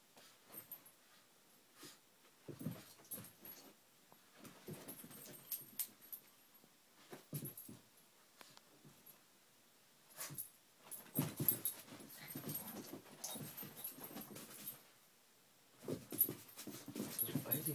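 Two dogs play-fight up close, with heavy panting, snorts and wheezy breaths, scuffling bursts and occasional whimpers that come and go across the stretch.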